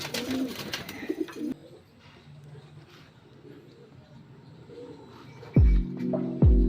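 Long-distance racing pigeons held in a cage coo softly through a quiet stretch, with sharper nearby bird sounds and thumps at the start and end.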